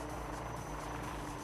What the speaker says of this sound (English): the light utility helicopter is now ready for operation